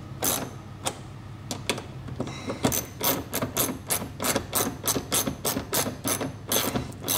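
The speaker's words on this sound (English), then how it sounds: "Got the 10 millimeter and we'll just start tightening these up." A hand ratchet with a 10 mm socket tightens mud flap bolts on a Subaru STI, giving quick runs of sharp clicking pawl strokes, close and fairly quiet, with brief pauses between bursts.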